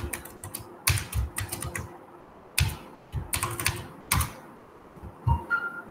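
Typing on a computer keyboard while writing JavaScript code: quiet, close clusters of rapid key clicks in short bursts separated by pauses, with no talking.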